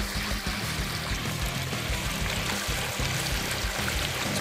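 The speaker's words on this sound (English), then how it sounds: "Two water cannons, not too much pressure," Water from two low-pressure water cannons gushing through a homemade Angus Mackirk highbanker with a California sluice hopper, a steady loud rushing and splashing flow with no talk.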